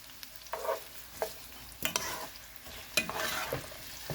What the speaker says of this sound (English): The onion goes in the oil. I'll let this onion brown for